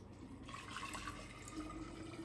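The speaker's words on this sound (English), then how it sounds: "we're going to add 2 quarts of water," Water poured into a large container for preserving eggs, a steady continuous splashing and trickling stream heard close up and alone for about two seconds.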